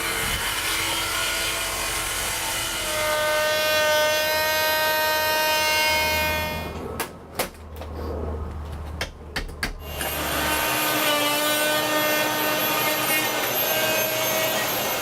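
A power saw cuts back the trim around a window, whining loudly and steadily, then bogging into a rougher, lower cut for a few seconds before returning to a high whine.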